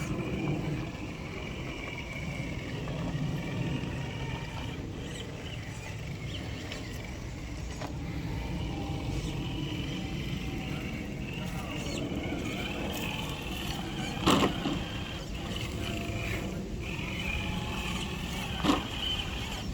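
A Traxxas TRX6 6x6 RC truck drives over rough ground outdoors, its small electric motor whining steadily at moderate volume with faint crunching and a couple of sharp knocks.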